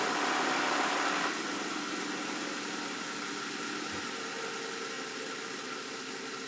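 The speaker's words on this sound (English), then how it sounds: "It's gonna sound like a big block V8." A 2018 Jeep engine fitted with a new cold air intake idles steadily, a loud, even rumble that settles slightly after the first second and runs on alone with no talk.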